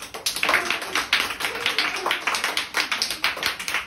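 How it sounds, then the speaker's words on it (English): Grade 4 classroom children clap together loudly in a fast, rhythmic burst of many hands, steady throughout with faint voices beneath. "Everybody clap."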